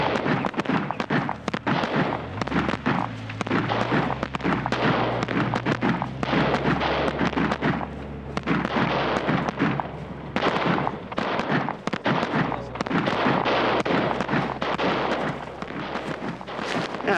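Rapid bursts of gunfire from a sniper attack crack out in dense, overlapping volleys, loud and close, with a low rumble running beneath and almost no pauses across the stretch.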